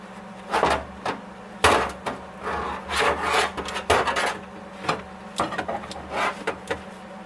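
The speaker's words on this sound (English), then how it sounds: "Oh, that's actually a jackhammer." Jackhammer chiseling at the rusted floorpan of a Datsun 280ZX, braced against a bolt on a strong brace, giving repeated rough bursts of rattling impacts separated by short pauses, close and loud.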